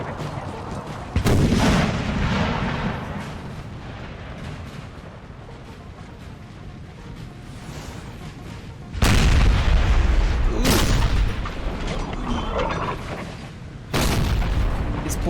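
Artillery cannons boom on a Napoleonic Total War 3 battlefield, several heavy blasts spaced seconds apart over a constant roar of distant musketry and battle noise, loud and full.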